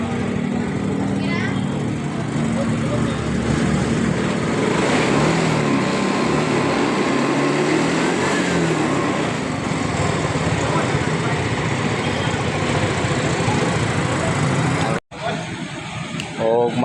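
Yamaha Mio i 125 scooter engine with a loss-of-compression fault running steadily and loud close by, a continuous buzzing idle that cuts out briefly near the end, with someone talking over it.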